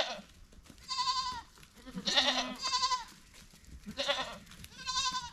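Baby goats bleat in a series of about five nasal, wavering cries spaced roughly a second apart, fairly close and clear over a quiet farmyard background.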